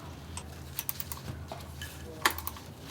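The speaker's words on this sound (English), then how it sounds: "now we're tightening the upper bolt" A socket ratchet tightens the upper bolt on the thermostat housing of a Honda Civic Si/SiR with a B16A2 engine, giving quick, light, irregular clicks close by against a quiet background.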